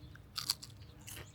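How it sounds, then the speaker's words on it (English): Fresh sugar peas are bitten and chewed straight off the vine in a garden during a heatwave, giving quiet, close crunching in two short bursts. "There's nothing like eating a sugar pea right off of the vine."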